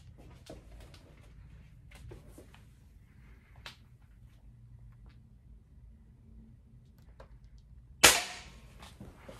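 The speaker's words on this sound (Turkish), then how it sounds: "Bugün atış yapmayı öğreneceğiz." A single sharp, loud gunshot at target shooting practice rings out near the end, after several seconds of quiet outdoor ambience with a few faint clicks and taps.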